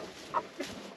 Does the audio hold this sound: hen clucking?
yes